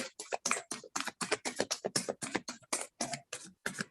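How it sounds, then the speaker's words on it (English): Tarot deck being shuffled by hand, a rapid series of crisp riffling card flicks in short bursts, close and fairly quiet with no talking. "One more shuffle, and then I'll take the top card on the deck."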